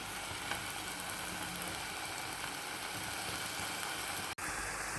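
Chicken for chicken parotta sizzles steadily in a pan as it is stirred, a dense continuous hiss and crackle with a faint low hum beneath and one brief sharp click near the end.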